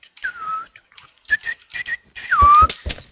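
A person whistles a short, wavering tune in a few gliding phrases, close and fairly loud, with clicks and bumps around it during a Minecraft minigame session; no talking.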